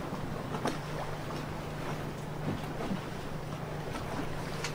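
An old clipper sailing ship moves through open water in a steady wind, with a constant rush of air and sea and soft creaks from the hull.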